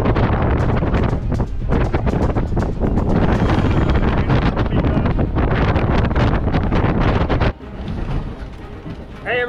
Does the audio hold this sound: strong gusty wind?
yes